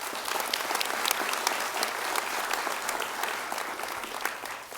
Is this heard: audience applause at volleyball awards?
yes